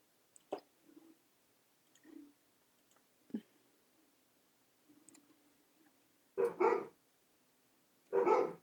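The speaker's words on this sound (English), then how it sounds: "I hear dogs." Several dogs bark at a distance in short scattered bursts, faint single yelps early on, then two louder, fuller barks near the end, with quiet stretches between and no talking.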